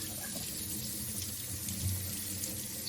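Tap water runs steadily and continuously over color-changing, heat-sensitive homemade slime, a close, even hiss with no pauses and no talk.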